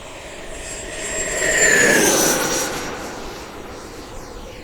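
An FMS Super Scorpion V2 90mm EDF model jet flies past, its ducted-fan whine rising to a peak mid-pass and then fading away outdoors.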